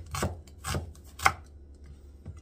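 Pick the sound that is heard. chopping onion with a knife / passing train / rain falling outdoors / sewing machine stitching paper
chopping onion with a knife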